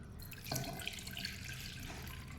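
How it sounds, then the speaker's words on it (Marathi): Rice water streams and splashes steadily into a pot, a continuous close pouring sound with a faint clink near the start. "आता हे पाणी तांदूळाचं पाणी मी एका पातेल्यात घेणार आहे"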